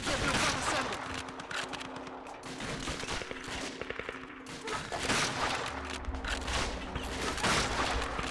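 Machine-gun fire and scattered gunshots rattle through a battle in the Call of Duty Finest Hour video game, bursts repeating steadily at moderate loudness with no one talking.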